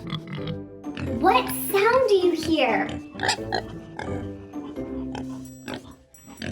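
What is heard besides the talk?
pig oinking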